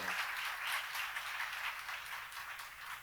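A church audience applauds at a Bible lecture on Proverbs, a steady patter of many hands clapping at moderate volume that holds throughout.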